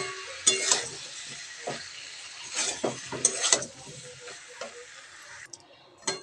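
A mustard and poppy seed paste is stirred in a pan, giving intermittent scraping and tapping strokes of a spoon against the metal over a faint, low sizzle.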